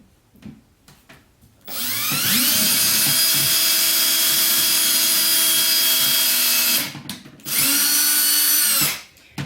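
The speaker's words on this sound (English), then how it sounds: "Now, the holes that we just marked, I'm going to pre-drill." A power drill pre-drilling holes for a barn door install whines loudly and steadily for several seconds, stops briefly, then spins up again for a second burst, close by.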